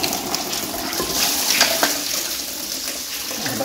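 Coolant pours steadily from a radiator hose into a bucket with a continuous splashing gush, close by, with a few small clinks.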